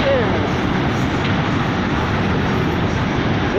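Tail end of a passing train rolls by as a steady, close, broadband rumble that holds at an even loudness throughout, with no clear break or fade.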